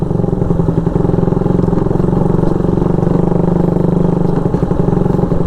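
A Suzuki Raider motorcycle rides along a road near Zamboanga City, its engine a loud, steady, close throbbing drone with a rapid rhythmic pulse throughout.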